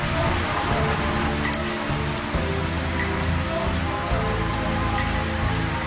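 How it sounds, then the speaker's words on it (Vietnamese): Continuous morning rain falls over a residential quarter in Phan Thiet, a thick, even hiss of drops on surfaces close by, holding steady with no voices. "Sáng hôm nay là trời mưa đó các bạn."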